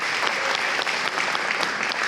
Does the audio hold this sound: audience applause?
yes